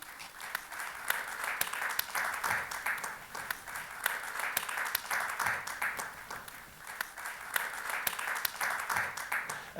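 A hearty round of applause from a panel audience honours the late May Blood at a peace and trauma event: soft, continuous clapping with scattered sharper hand claps, fairly distant and even throughout.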